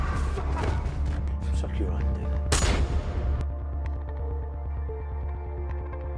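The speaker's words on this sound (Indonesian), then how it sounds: "Dengan cepat, Hill melumpuhkan semua perampok itu hanya dengan satu tembakan dan tepat sasaran." Gunfire in an action film sequence, with a sharp, loud shot bursting out over a dense, busy film soundtrack, followed by a lower rumbling texture.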